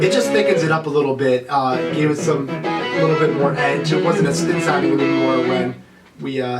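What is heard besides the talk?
No everyday noises stand out.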